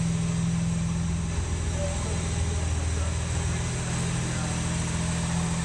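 A 1967 Jaguar E-Type engine idles low and steady, a continuous close rumble with a smooth, even pulse, with a brief word spoken over it.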